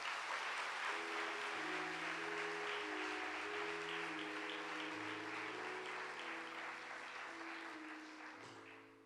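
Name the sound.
congregation applauding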